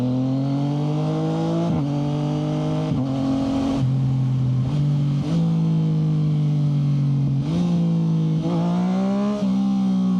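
A tuned Yamaha MT-09 motorcycle engine drones loud and close, its pitch stepping and swelling in repeated blips as it is downshifted through the gears, with no talking.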